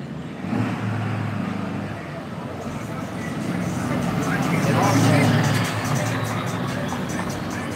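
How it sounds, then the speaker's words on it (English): Loud trucks and cars pass along a road, a continuous traffic roar that swells to a peak near the middle and then eases while staying heavy throughout. "Loud ass trucks and cars."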